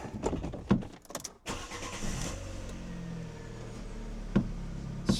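A car engine cranks and starts once its battery is reconnected, with a loud burst of ignition followed by a steady idle hum and a few sharp knocks near the end.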